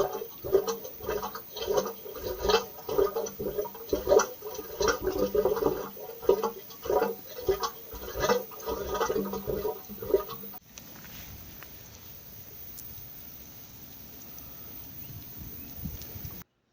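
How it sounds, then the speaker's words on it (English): A water pump near the toilets on a bush walk at Upper Nihotupu Dam in the Waitakere Ranges gives a steady, rhythmic mechanical churning for about ten seconds, then stops and leaves only faint outdoor ambience. "There's some kind of water pump."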